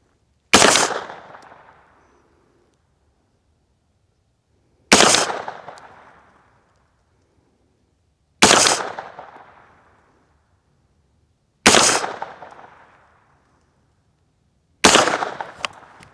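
Five sharp, loud 9mm shots from a Daniel Defense DD PCC 916 carbine with a 16-inch barrel firing 115-grain rounds, spaced about three to four seconds apart, each cracking hard and then ringing out briefly.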